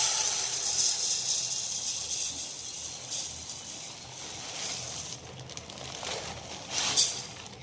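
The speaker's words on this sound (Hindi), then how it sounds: "यहाँ पर बिरयानी की प्याज फ्राई हो रही थी" Onions frying in oil for biryani at a park picnic in Hyderabad, a steady sizzling hiss close by that swells and fades, with faint clatter near the end and no talk.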